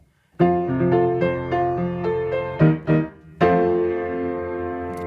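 A piano plays the short intro riff of a song, repeated chords and notes, clear and close, ending on a ringing sustained chord.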